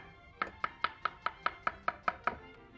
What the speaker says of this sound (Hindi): इस पुलाव के लिए हम थोड़ा प्याज स्लाइस कर लेते हैं।